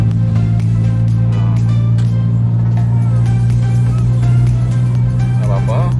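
A 2009 Daihatsu Xenia, tuned, accelerating in fifth gear, its engine a steady loud drone with a strong low hum throughout, while people talk inside the car.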